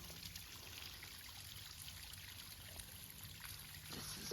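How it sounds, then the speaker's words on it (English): A small river runs steadily in a continuous soft rush with a light trickle, heard alone at a moderate distance along the Camino Francés between Triacastela and Barbadelo, Spain. "I love the sound of running water."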